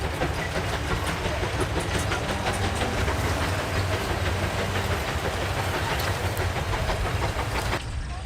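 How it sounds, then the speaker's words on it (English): A rebuilt Case 150 steam traction engine gives off a rapid, rhythmic chuffing exhaust bark from its stack, loud and continuous under a hissing wash of steam, before easing off near the end, with no voices. "The sharp exhaust bark from the stack is the real measuring stick."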